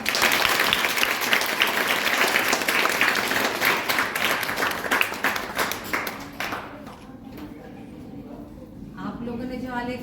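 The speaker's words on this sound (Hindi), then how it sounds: "तालियां जोरदार।" Enthusiastic audience applause at a school Pravesh Utsav event in Madhya Pradesh: dense, loud clapping for about six seconds, then thinning out as a voice begins speaking near the end.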